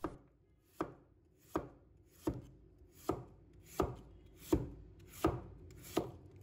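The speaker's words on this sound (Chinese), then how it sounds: "接下来我们再准备马铃薯，把它对半切开" A knife slices through a halved potato on a cutting board, with eight or nine crisp, evenly spaced chops coming close and clear. No voices or other sounds cover them.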